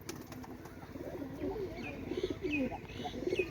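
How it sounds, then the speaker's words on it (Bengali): Soft, low cooing from pigeons repeats in short rolling phrases, close by, over a quiet background. "পায়রা পুরো ফিট পায়রা আছে"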